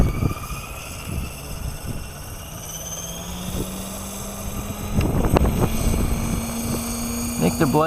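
Small helicopter with its rotor blades out of track, on a windy outdoor site, gives a droning rotor and engine whine with rhythmic thumping, partly buried under gusting wind noise, while someone talks over it.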